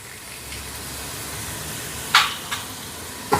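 Butter and ghee sizzle with a soft, steady hiss in a pan. A few short clinks break in near the end, and there is no speech.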